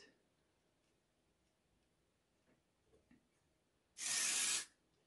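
A short, loud aerosol spray blast hisses for about half a second at a homemade DIY face mask, following several seconds of quiet with faint small ticks.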